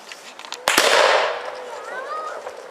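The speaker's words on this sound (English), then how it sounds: "And then he was going to fire the weapon." A single sharp report from a breech-loading Civil War rifle fired at a reenactment in Texas, loud and close, followed by a brief second crack and a long fading echo, with faint ambient noise behind.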